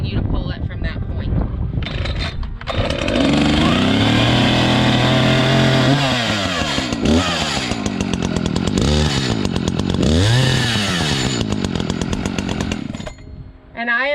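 A chainsaw catches after a pull and runs loud and close, its engine revving up and down in repeated surges before settling and cutting out near the end, with a voice talking briefly.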